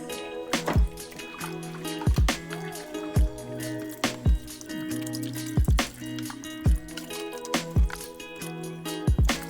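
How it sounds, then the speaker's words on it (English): Slabs of St. Louis ribs being washed and scrubbed by hand in a vinegar water bath, with repeated wet splashes and drips in an irregular rhythm, close and fairly loud, over a steady background hum. "grab your mitts and give these slabs of ribs a whole bath"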